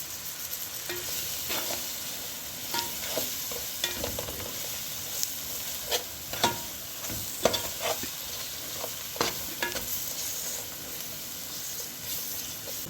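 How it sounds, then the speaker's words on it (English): Masala roasting in a pan for a culls curry, stirred with a utensil: a steady soft sizzle with scattered scraping clicks and taps from the spoon against the pan, alone without talk. "I'll stir it."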